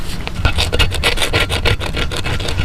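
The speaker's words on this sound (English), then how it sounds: "I'm scraping all the clear coat off with this plastic scraper" Plastic scraper rasping clear coat off a factory car wheel, repeated short scraping strokes close up, steady and fairly loud with no talking.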